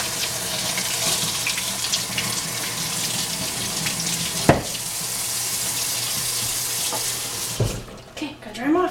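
Water runs steadily from a tap into a sink as a child's hands are washed, a continuous gush with a few sharp knocks and splashes. The flow cuts off near the end.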